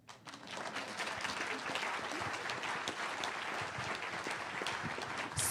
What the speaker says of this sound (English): You guys want to clap?